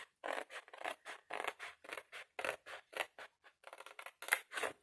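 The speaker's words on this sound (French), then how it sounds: "donc là, je vais couper" Scissors snip through a paper box template in a rapid series of about twenty close, crisp cuts with short pauses between them and no talking.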